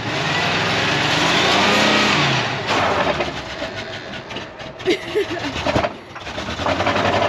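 A 1977 Mercury Grand Marquis, long parked and reluctant to idle, revs hard as it is jammed into gear, a loud, close engine roar that settles into an uneven, rough running note with clunks and rattles.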